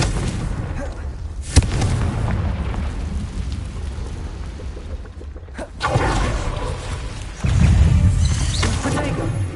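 Blasting-spell explosions in the Hogwarts Legacy video game boom in heavy, rumbling bursts over continuous battle noise, with a sharp crack early on and louder blasts later.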